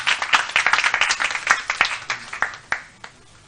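A round of applause at a press conference in Ghana, a few seconds of moderate clapping in quick uneven bursts that thins out and stops, no talk over it.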